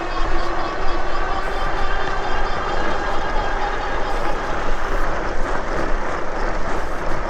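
A Gogoal Panther F2 budget fat tire e-bike with 26x4-inch tires, riding at speed on pedal assist level 4, gives a steady motor whine and rushing wind and road noise that hold throughout without a break.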